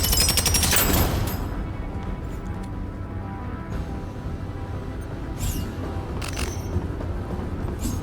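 Rapid gunfire from a weapon in the video game Deadzone Rogue, a dense loud burst of shots in the first second, then quieter scattered shots and game noise.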